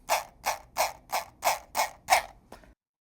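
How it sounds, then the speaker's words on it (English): A Keychron M6 mouse's original plastic scroll wheel is turned in a run of about eight sharp, creaky ratcheting bursts, evenly spaced a little under half a second apart, close and alone, with the last one weaker. "that's the sound of the main scroll wheel"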